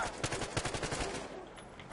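A rapid burst of automatic gunfire in the video game Battlefield Hardline, sharp evenly spaced shots for about a second, then fading into a noisy tail.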